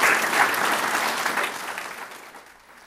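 Applause from an audience at a school board meeting, a burst of clapping that starts full and fades out over about three seconds.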